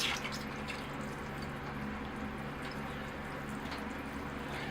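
Water poured over a potted Ficus microcarpa bonsai, a steady close trickling and dripping wash that runs on without pause under no talk.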